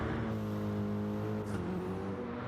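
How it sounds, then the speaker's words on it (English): A BMW race car storms past during 24-hour qualifying at the Nürburgring, its engine note steady and loud with strong harmonic tones that shift slightly in pitch as it carries through the circuit. "Look at that BMW go."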